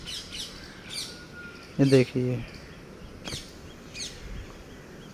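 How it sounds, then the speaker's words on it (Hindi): An injured red-vented bulbul, hurt after being hit by a vehicle, gives several short, sharp chirps spaced through the moment, near and fairly clear, while a person speaks briefly in between. "तो ये रेड वेंटेड बुलबुल बोलते हैं इसे"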